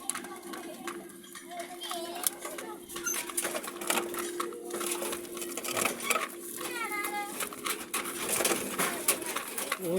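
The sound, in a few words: birds cooing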